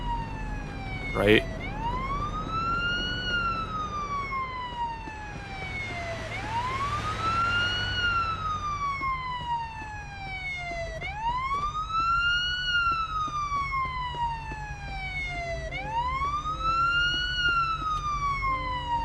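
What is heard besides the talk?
stuck ambulance siren in video game Police Simulator: Patrol Officers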